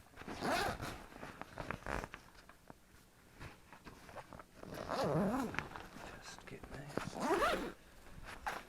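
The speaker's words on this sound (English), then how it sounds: "I've got this one as it zips open" A zipper rasps open in several quick pulls amid rustling handling noises, with a person talking in between.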